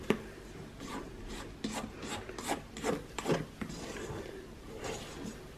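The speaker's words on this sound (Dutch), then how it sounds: "ik doe eigenlijk alleen maar mijn spatel bewegen" A spatula gently folding whipped egg whites into batter in a bowl, with soft repeated rubbing and scraping strokes at a slow, even rhythm, close and quiet with no talking.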